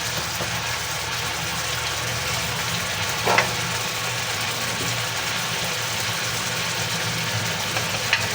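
Bicol express bubbling at a full boil in a pot, a steady close bubbling and sizzling hiss with one brief clink partway through.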